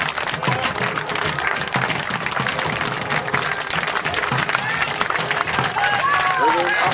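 A crowd at a historical festival applauds and cheers as Sealed Knot Royalist regiments of foot march past, a dense, continuous wash of clapping with shouts mixed in, steady and fairly loud for the whole stretch.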